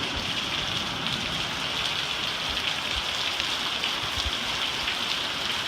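Heavy summer monsoon rain pours steadily onto a front yard, a dense, constant hiss of water with scattered nearby drips and splashes and no break throughout.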